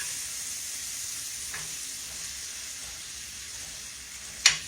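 Onions and other ingredients fry in hot grease with a steady, fairly quiet sizzle, lightly stirred, ending in a brief sharp scrape or clink near the end; no talking.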